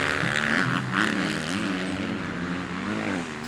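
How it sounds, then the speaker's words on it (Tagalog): Several camera drones fly overhead at a race, their steady propeller whine sustained throughout over a continuous engine-like drone, fairly close and loud with no talk. "Daming drone."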